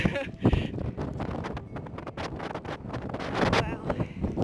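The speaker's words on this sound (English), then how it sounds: "it's so windy and rainy and cold" Strong wind blasts across a volcanic crater with water at the bottom in cold, rainy Iceland, rumbling and buffeting the microphone in uneven loud gusts for several seconds.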